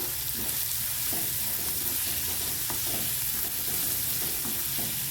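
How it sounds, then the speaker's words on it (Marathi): Chopped onion frying in a pan, a dense continuous sizzle with faint intermittent scraping as it is stirred, close and steady throughout. "हे कट केलेला कांदा ह्याच्यात टाकून द्यायचा आणि चांगला हलवून घ्यायचे"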